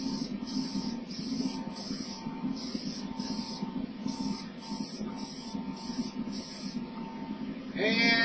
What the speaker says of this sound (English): So here we go with the next mist coat.